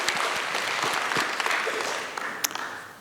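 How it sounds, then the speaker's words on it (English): An audience applauds a correct quiz answer during a tax presentation, a sustained patter of many hands clapping that gradually fades toward the end, with a few sharper claps standing out. "Can you please give them a round of applause?"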